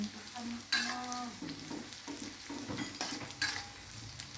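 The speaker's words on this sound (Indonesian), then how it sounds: "Ini terinya sudah mulai agak masak ya teman-teman" Anchovies fry and get stirred in a pan for a chili sambal with peanuts, giving a steady sizzle with scraping spatula strokes, close and fairly quiet, and no talking.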